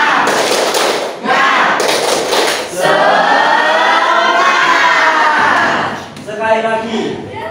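A group performs a rhythmic spirit clap in a class session, bursts of loud, close claps alternating with chanted voices.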